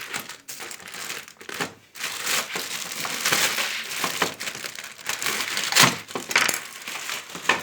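Continuous crinkling and crushing of plastic packaging, loud and close, with sharp rustles and tearing bursts throughout.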